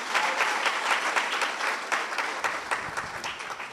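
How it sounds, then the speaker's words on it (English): An audience at an academic colloquium applauds with steady, dense clapping that fills the room and stays even throughout, close and continuous without any voices on top. "Let's give them a round of applause."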